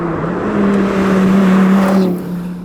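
A 2017 Dodge Viper GTC pulls away with a loud, steady engine note that rises gently as it accelerates, then fades slightly as the car moves off.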